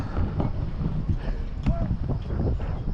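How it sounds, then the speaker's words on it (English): Donkeys clopping across a metal suspension bridge on a mountain hiking trail between Surke and Phakding in Nepal, a steady run of hoof clip-clops with wind noise and people talking nearby. "Can, get a whole thing of donkeys on there"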